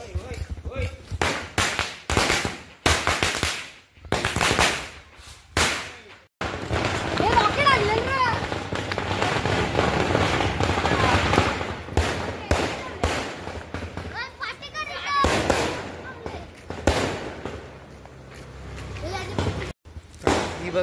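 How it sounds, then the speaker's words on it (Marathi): Diwali firecrackers and fireworks going off outdoors, a run of sharp loud bangs and crackling bursts with brief gaps, while people talk throughout. "ही बघा गाईज, फटाके गँग आले"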